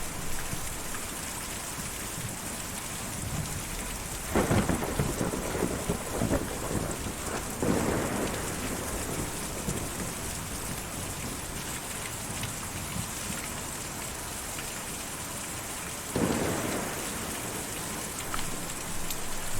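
Steady heavy rain hisses throughout a stormy scene in the Kentucky Route Zero video game, with low rumbling thunder swelling up three times at irregular intervals, no voices present.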